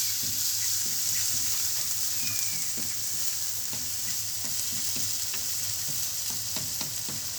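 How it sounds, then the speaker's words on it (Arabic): Onions frying in butter in a tray for Alexandrian-style fava beans, a loud, steady close sizzle with scattered crackles and soft stirring scrapes, no voices. "طبعا هنحط زبده وهننزل بالبصل بتاعنا"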